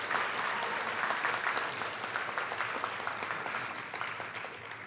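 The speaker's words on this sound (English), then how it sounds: "Let's give another round of applause to our scholarship recipients." A graduation audience applauds scholarship recipients at a RICA ceremony, a fairly distant, steady round of clapping that tapers slightly toward the end.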